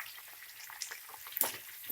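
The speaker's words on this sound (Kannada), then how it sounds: "ಅಲ್ಲಿಗಂಟ ಫ್ರೈ ಮಾಡ್ಕೊಳ್ಳಿ ಕ್ಯಾಪ್ಸಿಕಮ್ನ" Capsicum frying in a pan for a cauliflower potato biryani, a faint soft sizzle with a few light stirring scrapes and one brief louder clatter near the end.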